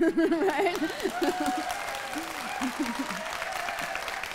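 A conference plenary audience claps in a broad, steady patter while a speaker's voice talks over the applause throughout.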